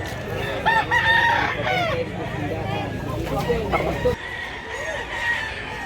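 Twenty-eight chickens bought for Masbate cluck and crow in a busy, overlapping chorus, with a rooster call rising clearly near the start while people talk nearby over steady background noise.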